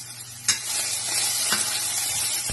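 Cumin seeds, onions, peas and ginger-garlic-chili paste sizzle steadily in a small amount of oil, a continuous crackling fry with a few sharp stirring knocks against the pan.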